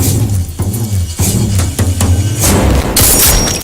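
Loud gunfire from an Indian action film, Pushpa, cracks out in rapid repeated bursts mixed with heavy booming impacts, filling the scene without pause.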